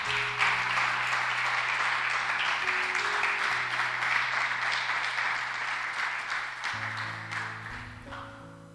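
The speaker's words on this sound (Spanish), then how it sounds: "Dale un aplauso al Señor." A church congregation claps continuously and fairly loudly for several seconds while a steady keyboard or organ chord sustains underneath.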